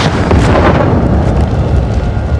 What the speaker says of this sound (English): Michonne hears an explosion.